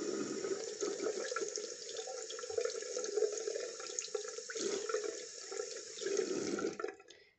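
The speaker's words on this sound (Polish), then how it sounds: "Spłukuję." A tap runs steadily as a foamy washed item is rinsed under it, a close, continuous splashing stream that is cut off abruptly at the end.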